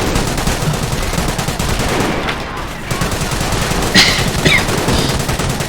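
Battle gunfire in Company of Heroes, a World War II strategy game: dense, continuous rattling of machine guns and rifle shots with a few sharper bursts near the end, loud and unbroken throughout.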